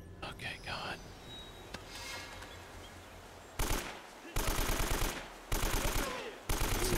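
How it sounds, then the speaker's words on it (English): Shotgun gunfire in the video game Uncharted: Drake's Fortune: a quiet stretch gives way to several loud, sharp blasts in quick succession, each with a short decaying tail, close and dominant over the faint background. "We're using shotgun on this guy."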